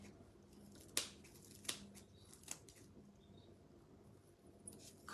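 Dried incense herbs are snipped with scissors, giving three quiet, sharp cuts spaced a little under a second apart over a faint background hiss.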